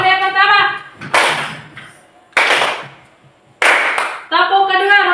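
A classroom of children clap a rhythmic pattern together in short bursts of sharp, loud claps, each burst followed by a pause, with children's voices chanting or speaking between and over the clapping.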